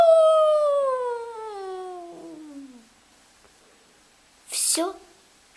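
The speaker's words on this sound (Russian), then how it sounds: "это страшный вой волка." A wolf's howl, long and mournful, sliding slowly downward in pitch for about three seconds, loud and close, followed after a pause by a short sharp yelp or cry.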